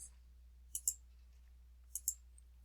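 Two quick double mouse clicks, each a crisp pair of ticks, land about a second apart while working in data analytics software, close and clear over a faint steady hum with no talking.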